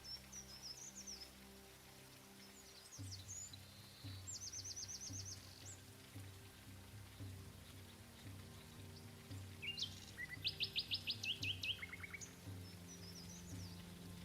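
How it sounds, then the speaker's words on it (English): Birds chirp and tweet now and then in the ambience of the video game Land of the Vikings, with short high trills and calls that come in bursts over a steady low hum of background sound. "you even hear the birds every now and then in this game"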